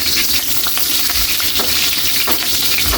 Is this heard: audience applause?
no